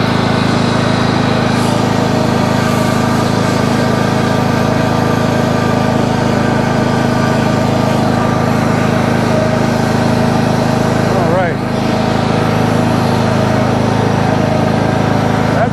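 A zero-turn lawn mower's engine drones loud and steady at close range as it drives and turns on the lawn, with a brief dip in pitch partway through and no speech.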